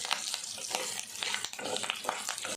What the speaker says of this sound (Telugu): కరివేపాకు కూడా పచ్చివాసన పోయేంత వరకు మంచిగా వేగాలి